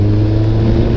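A Kawasaki ZRX1200S big bike at highway speed gives a loud, steady engine roar under hard acceleration, heard close up for one second.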